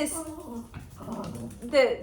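A dog whimpers and growls softly under a person's continuous talking, ending in a brief, louder whining cry near the end.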